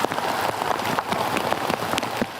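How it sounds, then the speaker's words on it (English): Steady rain falling and pattering on surfaces outdoors in Connecticut, a dense, even hiss with scattered individual drop ticks throughout, close and continuous with no voices. "Some long-awaited rain to start off the week"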